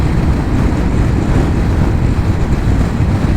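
Strong outdoor wind buffets the microphone in a steady, loud, low rumble that never lets up, with no voice over it.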